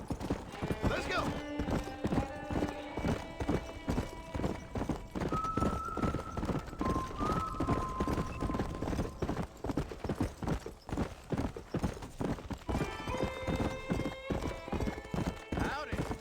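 Horse hooves clip-clopping at a gallop in the Red Dead Redemption video game, a continuous fast rhythmic pounding with occasional whinnies, under people talking.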